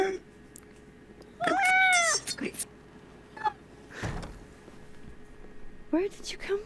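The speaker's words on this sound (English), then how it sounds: "We can choose a cat! Black cat!" A black cat in the video game Life is Strange: Double Exposure meows in a few clear, rising calls near the start, with an excited player talking over the game audio before and after.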